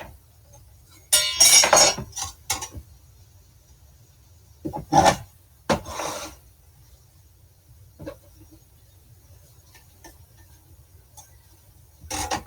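Paring knife poking into a raw potato and twisting out cone-shaped chunks, heard as a few scattered short scrapes and clicks against quiet room hum.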